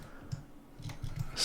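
Soft computer mouse clicks, a few faint, quick taps spaced irregularly in a quiet room, with no talking.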